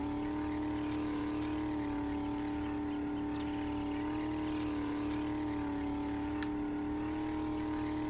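A steady, droning 4x4 truck engine in a video game hums continuously with a strong low tone, held at constant revs, loud and unchanging throughout.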